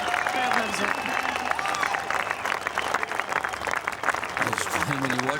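Golf gallery at the Open Championship applauding a shot, a steady wash of clapping and crowd noise with a commentator's voice talking over it throughout.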